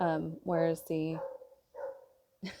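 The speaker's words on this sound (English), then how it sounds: "I don't know if you can hear the dog barking." A dog barks outside, a few short, sharp yaps mixed in with a nearby person talking indoors.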